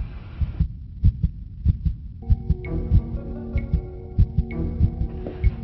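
A loud, pounding heartbeat thumps in a steady rhythm, joined partway through by a low sustained hum beneath the beats.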